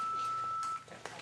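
A mobile phone sounds a steady electronic tone during a breathing seminar, held for most of a second and then cut off, with faint room noise after it.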